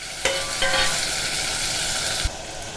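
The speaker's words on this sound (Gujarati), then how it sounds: "હવે આપણે તેને મિક્સ કરીશું" A Gujarati green peas and potato curry is stirred in a hot pan, a continuous sizzling hiss broken by a few sharp clinks of the spoon against the metal.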